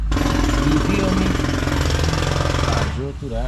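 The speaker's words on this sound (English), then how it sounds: "I drill through that." A power drill bores through a door part during a window regulator repair on a Porsche Cayenne: a loud, continuous grinding whine for about three seconds, then it cuts off and a voice speaks.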